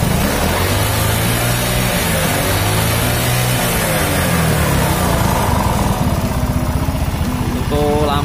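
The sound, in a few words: Yamaha Mio motorcycle engine revving with PE carburetor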